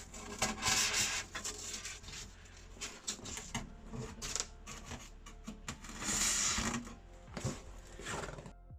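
Close, scratchy rubbing and rasping as strips of polystyrene are cut, irregular bursts of friction noise at moderate level with brief pauses, alone without talk.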